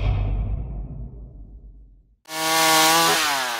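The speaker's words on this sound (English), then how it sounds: "Moses Lake artist Francisco Kiki Zuniga picked up a chainsaw for the first time a month ago and started carving statues from tree stumps." A chainsaw carves a statue out of a tree stump. The engine roars loud and close, bogs down and dies away into a brief silence, then revs back up into a steady high whine.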